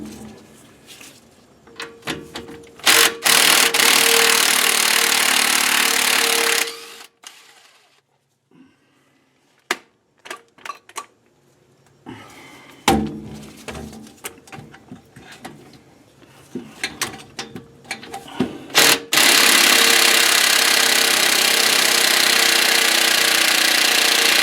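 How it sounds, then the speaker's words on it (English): A small impact wrench works on the rear differential bolts of a classic Ford Mustang 8-inch axle, giving loud close bursts of rattling hammering separated by quieter gaps with clicks and handling noises. "Gotta love the little impact wrenches."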